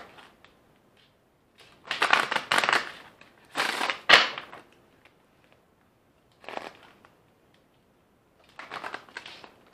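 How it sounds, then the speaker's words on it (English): Tarot cards being shuffled close up in several bursts of riffling and flicking, separated by short quiet gaps. "I'm gonna shuffle one more time."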